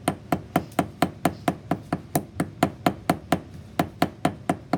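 Steady, evenly spaced hammer blows strike wire pieces being tightened into place, about five sharp knocks per second, loud and close with no talk.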